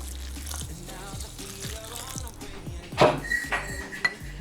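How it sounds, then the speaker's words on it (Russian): Boiling water pours in a short splashing burst near the middle while making a croissant filling, with faint clinking and low background hum before and after. "Далее сюда мы выливаем нашу горячую воду, кипяток."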